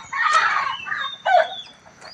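Chickens at a temple grounds after rain give loud, close clucking calls in two quick bursts, with a brief crowing-like squawk between them.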